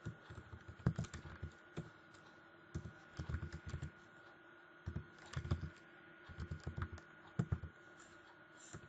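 Someone types on a computer keyboard while writing code for a JavaScript tutorial. Soft clusters of key clicks come in short, uneven bursts with brief pauses between them, quiet and close.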